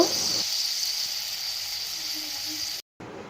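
Potatoes frying in oil in a pan for mochar ghonto, a steady moderate sizzle with a brief break near the end before it resumes.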